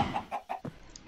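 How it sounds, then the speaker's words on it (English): A chicken clucks in a quick series of short, close calls, fairly faint, ending with a louder squawk. "Mr. Chicken, come in here."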